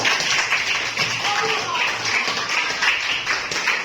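Classroom pupils clapping together for a classmate during a lesson, a steady patter of many hands throughout, close and moderately loud.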